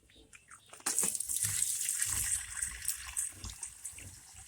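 Water from a tap turns on suddenly and gushes steadily, splashing close by, then eases slightly toward the end.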